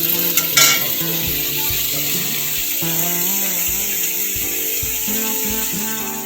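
Potatoes frying in a pan for a chicken dish in a village kitchen, a steady broadband sizzle running throughout at close range, with a few clinks and stirring sounds and no talk.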